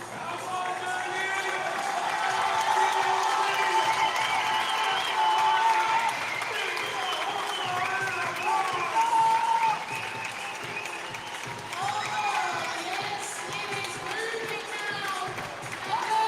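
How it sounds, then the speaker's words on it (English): A loud arena crowd cheers, shouts and applauds nonstop at a CrossFit-style fitness competition semifinal in Europe as an athlete drives a sled toward the finish. A commentator talks over the roar. "Crowd on their feet. Louder than they've ever been."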